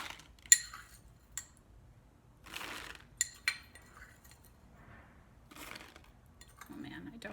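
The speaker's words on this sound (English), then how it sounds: "So I'm just going to dump that in the bag." A tablespoon of cacao nibs is dumped into a bag in a kitchen: quiet scattered clinks, small rattles and soft rustling pour in a few separate bursts, close and faint, with no talk.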